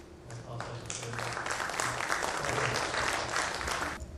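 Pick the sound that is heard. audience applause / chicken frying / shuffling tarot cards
audience applause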